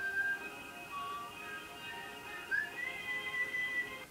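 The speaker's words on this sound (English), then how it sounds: "That's me whistling." A person whistles a few faint, thin tonal phrases, short notes with gaps, quiet against a low background hiss.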